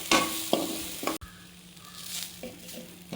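Grated coconut sautéed lightly in a pan for sweet ragi kozhukattai, a soft sizzle with a few close spatula scrapes and one sharp knock against the pan.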